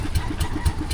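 A boat engine running at sea, a steady mid-pitched chug with regular rhythmic pulses about four times a second, close and fairly loud with no talk.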